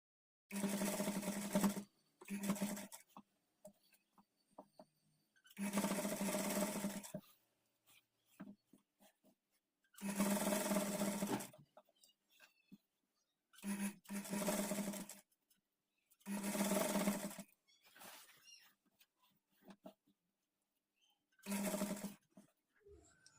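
A sewing machine stitches a trim strip onto a kids' lehenga in seven separate bursts of rapid whirring, each a couple of seconds long, with quiet pauses and soft handling noises between them.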